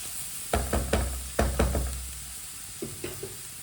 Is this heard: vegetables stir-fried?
yes